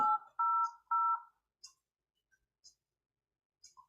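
Telephone keypad dialing tones, three long steady DTMF beeps in quick succession followed by a few short faint clicks and blips, with no voices.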